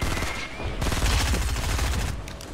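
Gunfire in Fortnite, with a shotgun among the weapons in a fight, comes as a loud, dense burst of rapid shots and crackling blasts filling the whole stretch, close and harsh.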